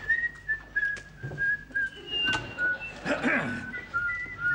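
Two people whistling together outdoors in the snow, a bright wavering melodic tune with pitch slides, moderately close, broken by brief noises.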